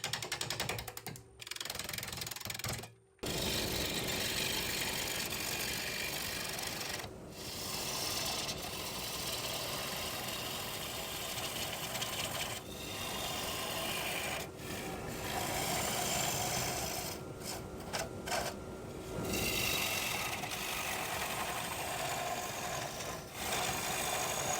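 A wood lathe hollows a very wet maple bowl held in a chuck. A steady mechanical whir and scraping tool noise run continuously, broken by several brief dropouts where the cut pauses.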